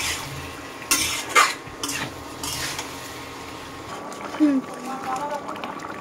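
A spoon scrapes and clatters against a pan as spiced curry is stirred and sautéd with soft sizzling underneath, several distinct knocks spread over the few seconds at close range.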